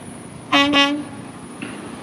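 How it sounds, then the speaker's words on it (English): A tanker truck on the road by the SpaceX Starbase launch site in Boca Chica, Texas, gives a brief, loud double horn blast over a steady outdoor hum, then the scene falls back to quiet background noise. "there's a tanker coming down the road here."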